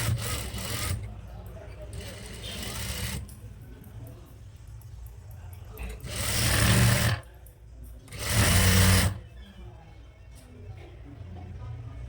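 A sewing machine stitches a frock nighty seam in several loud whirring runs, three long bursts separated by pauses, with someone talking quietly between and over them.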